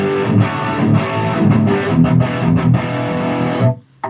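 High-gain electric guitar played through a Headrush amp model with high-cut and low-cut filtering, giving thick, heavily distorted riffing with rhythmic chugs that sustains loudly for over three seconds before cutting off abruptly.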